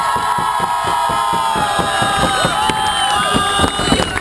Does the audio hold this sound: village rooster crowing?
no